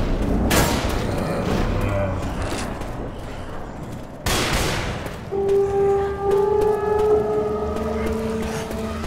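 A grenade goes off in the zombie shooter Left 4 Dead 2, a loud booming blast amid chaotic game noise, followed later by a second burst and sustained wailing alarm-like tones.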